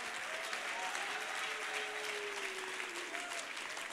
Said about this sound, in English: Clap your hands and shout unto the Lord